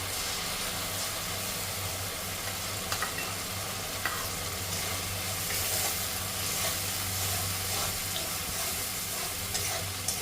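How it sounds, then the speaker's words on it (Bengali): Tomato paste frying in a pan for chhanar dalna, a steady, moderately loud sizzle with occasional small pops and soft stirring scrapes, continuous and alone without any talk. "বাড়িয়ে দেব এবারে দিয়ে দেবো টমাটো বাটাটা"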